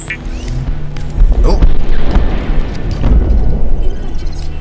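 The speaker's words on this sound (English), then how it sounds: "A quantum detonation has occurred in the Aurora's drive core." A massive quantum detonation in the Aurora starship's drive core in Subnautica, with deep rumbling booms swelling over several seconds, loud and close, under a steady low roar.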